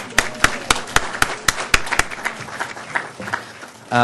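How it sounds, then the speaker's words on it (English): Audience applause for an honoree at a law school breakfast event: a thin patter of sharp, evenly spaced claps that fades out, followed by a voice. "You would give her a round of applause."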